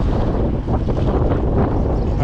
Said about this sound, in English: Wow, that is a serious headwind.